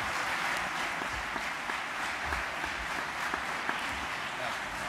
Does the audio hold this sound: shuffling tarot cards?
no